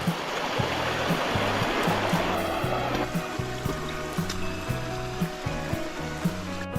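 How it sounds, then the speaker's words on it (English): Water flowing steadily along a wet hiking trail on a rainy, foggy morning, a broad continuous rush with a rhythmic thudding underneath, close and fairly loud, no voices. "Water's really flowing this morning."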